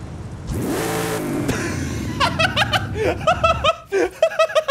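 A car engine in the video game Forza Horizon 5, a 1750-horsepower Ford Bronco, revs in short rising bursts, with chuckling and laughter mixed in over the top.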